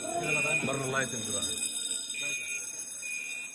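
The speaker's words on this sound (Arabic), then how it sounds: "ده صوت الانذار الثاني" Second-stage alarm of a NOVEC 1230 / FM-200 clean-agent gas fire suppression system under test: a sustained high electronic tone that keeps sounding as talking fades out.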